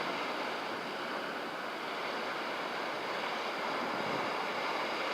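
Ocean waves breaking on a shore, a constant broad roar of surf with no distinct individual crashes, steady and moderately loud.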